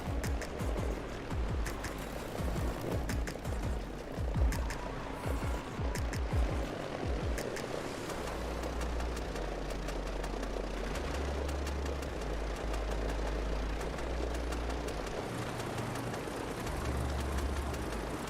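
A Dornier Do J Wal flying boat engine starts up with rapid cranking pulses that catch into a low, rumbling radial-engine idle, fairly faint and steady, heard with no voices.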